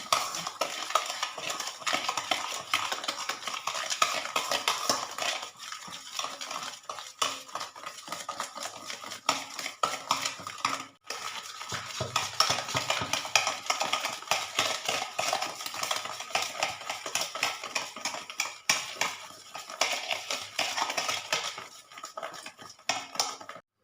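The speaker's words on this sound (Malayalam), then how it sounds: "സ്പൂൺ കൊണ്ടോ നന്നായിട്ട് ഇളക്കി യോജിപ്പിക്കാം." A spoon stirs eggs and sugar briskly in a bowl for sponge cake batter, making a continuous rapid clatter and scraping against the bowl, loud and close throughout.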